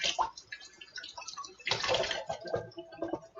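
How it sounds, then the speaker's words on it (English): Water splashing and gurgling as a container is rinsed out in a kitchen, in uneven bursts with a louder surge midway, fairly faint and close. "I'm just going to rinse this out."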